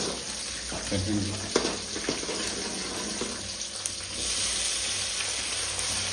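Tomatoes frying in oil for a fish curry masala make a continuous hissing sizzle, broken by a few clicks and knocks from stirring near the start.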